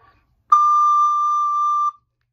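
One high, pure D on a recorder begins after a short pause, holds steadily for under two seconds, then ends abruptly into quiet.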